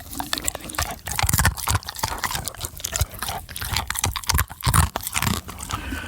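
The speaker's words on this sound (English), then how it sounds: "you can hear exactly how crunchy these wonderful treats are" Loud, rapid crunching as a dog bites and chews hard, brittle treats, with dense overlapping cracks continuing throughout and no talking.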